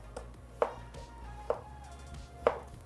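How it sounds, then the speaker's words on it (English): A knife cuts zucchini into chunks on a cutting board, three distinct close chopping knocks spaced about a second apart, with no talking. "So now we can cut them into chunks."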